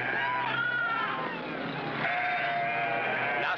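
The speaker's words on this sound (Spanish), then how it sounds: "Las ovejas acostumbran a escaparse" A flock of sheep bleats in overlapping, wavering cries, fairly close and continuous, with a low engine-like rumble beneath in a film scene.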